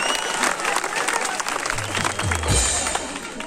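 A crowd at a rural livestock fair and farmers' festival in Namhol, Bilaspur applauds a comedy performance with loud, steady clapping throughout, and a low voice briefly murmurs underneath.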